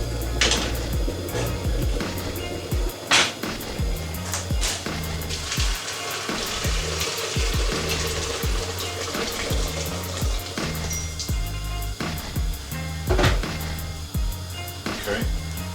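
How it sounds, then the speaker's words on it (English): Hot water is poured from a kettle onto red kidney beans in a pot on a stove, a steady splashing, bubbling rush with clinks and taps, close, while someone speaks faintly. "I'm going to pour the hot water on now."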